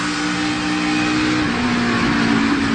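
A NASCAR race car engine at Michigan drones steadily at high revs, the pitch shifting slightly as the driver lifts off the throttle.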